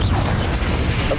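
A brief, loud, muffled blast from the Confringo explosive spell in Hogwarts Legacy, a single thudding boom with a rough, noisy tail.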